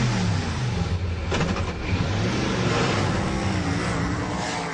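An Ascari A10 sports car's 5-litre V8 engine starts, rumbles and revs up, its pitch rising and falling through throttle blips, loud and close with no talking.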